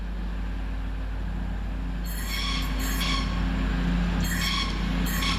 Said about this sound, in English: Just getting ready to come around the corner, the late running 1M25 off Cardiff Central going to Manchester Piccadilly